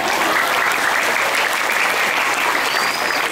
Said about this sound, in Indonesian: Tepuk tangan apa?